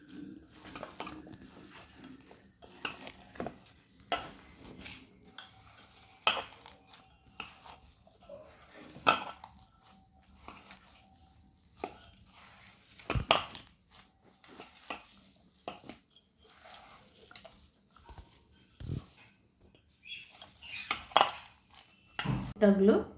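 Plantain kofta mixture is kneaded with gram flour and chopped green chilli in a bowl, producing quiet irregular squelches and sharp clinks of utensil against the dish, with scattered louder knocks and some background voice.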